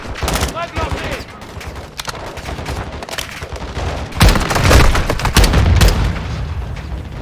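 Dense gunfire and explosive blasts in a Modern Warfare II battle as a frag grenade is thrown, with continuous loud shooting and a heavier booming surge midway, mixed with voices.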